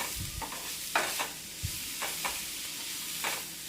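Bean leaves being stirred for thoran in a pan with turmeric and Kashmiri chili powder: a soft, steady sizzle broken by several separate spatula scrapes and knocks, close and fairly quiet.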